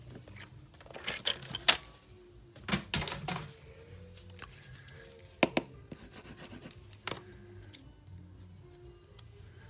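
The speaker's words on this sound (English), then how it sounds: "So I'll cut that down to" Designer series paper being cut by hand for a Stampin' Up! card, with quiet intermittent snips and scratchy clicks in a short irregular burst at close range.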